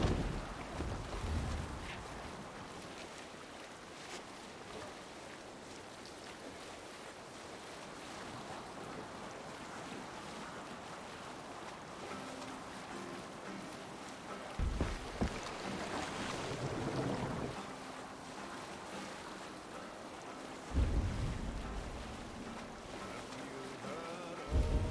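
A Viking longship is rowed over ocean waves in Assassin's Creed Valhalla, with continuous wash and surge of water and wind noise. Louder splashes swell now and then, and no one speaks.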